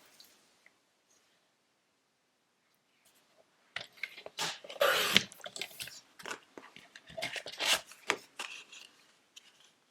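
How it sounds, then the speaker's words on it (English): Scissors cut out card pieces for a handmade card after a silent stretch, a close, irregular run of snips and paper rustles that gets louder partway through, with no talking. "So I'm just gonna cut all my pieces out."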